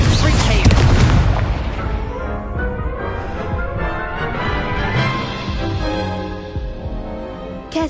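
Incendio fire spell cast in the video game Hogwarts Legacy, a loud booming burst at the start that rolls into a sustained roaring, crackling whoosh with game effects layered over several seconds.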